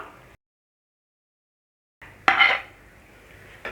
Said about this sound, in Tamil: இப்போது வேக வச்சு எடுத்த உருளைக்கிழங்கை சேர்த்துப்போம்